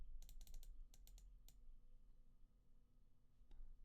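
Quick bursts of keyboard typing in the first second and a half, then a lone keystroke near the end, over a steady low hum with no voices.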